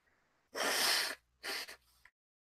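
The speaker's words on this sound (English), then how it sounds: "I think I need to blow my nose again." Two forceful nasal blows close up, a long one followed by a shorter one, with quiet breathing before and after.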